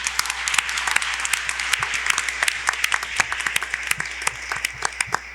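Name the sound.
audience applause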